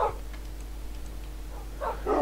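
A Minecraft dog whines in short, soft yelping bursts at the start and again near the end, thin and close against a low steady hum.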